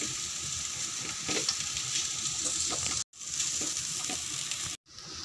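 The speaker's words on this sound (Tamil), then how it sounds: "இப்போ நம்ம எடுத்து வச்சா போவா போடலாங்க. ஒரு 5 நிமிஷம் நல்லா கிண்டுங்க." Poha sizzles steadily in a hot pan while a spoon stirs and scrapes through it, close and continuous, with two brief breaks in the sound.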